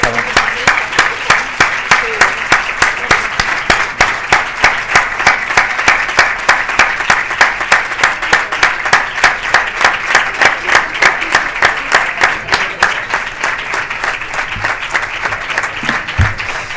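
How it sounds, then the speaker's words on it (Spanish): A conference audience at a community radio event applauds, a loud, sustained wash of many hands clapping in a quick, steady rhythm for about seventeen seconds, with faint voices mixed underneath. "Un aplauso para ellos, ¿no?,"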